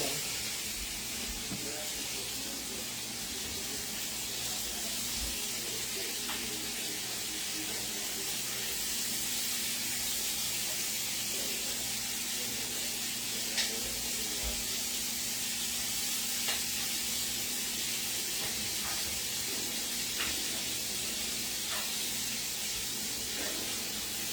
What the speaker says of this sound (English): Now I'm just going to be over here stirring this gravy and cooking up this ham.